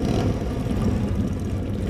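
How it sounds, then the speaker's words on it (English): A big motorcycle engine in the video game RoboCop: Rogue City gives a steady, loud, low mechanical rumble and whir, heard alone. "Sounds like a big motorcycle."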